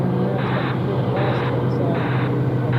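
A Vietjet airliner passes at Sydney Airport in wet weather, its engine roar a steady, loud rumble with a pulsing hiss that swells and fades every second or so, while people talk over it.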